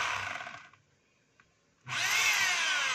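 A DeWalt D25144 rotary hammer runs in two loud, steady bursts, with a short quiet gap between them.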